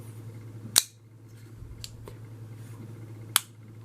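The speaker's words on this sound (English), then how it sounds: "You can hear the lockup in a detent." A Medford Knife & Tool Praetorian Genesis G folding knife snaps into lockup and detent, two crisp, sharp metallic clicks a few seconds apart, close and isolated over quiet room hum.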